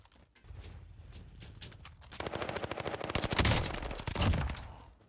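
Gunfire in the Warzone video game crackles in rapid bursts, sparse at first and then a dense, loud fusillade of overlapping shots in the second half, with no talking.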